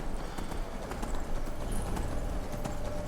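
Horse hooves clip-clopping at a steady gallop, fairly close, over a dense rumbling background with occasional faint voices, in the video game Skyrim.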